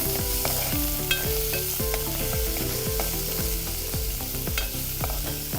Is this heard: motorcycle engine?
no